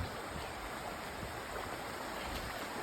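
Steady rushing river water flows continuously after overnight rain, a broad hiss-like wash with no pauses, close by and fairly loud.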